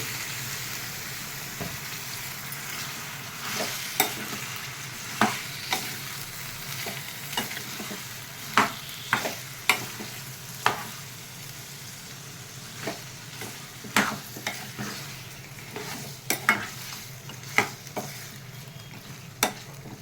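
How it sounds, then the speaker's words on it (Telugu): Chicken frying with potatoes in a pan for a curry, a steady low sizzle broken by frequent sharp spatula scrapes and taps at an irregular pace, close by, with no talking. "మనం ఇప్పుడు చికెన్ వేసుకుందాం ఎందుకంటే చికెను అది కలిపి వేగాలండి"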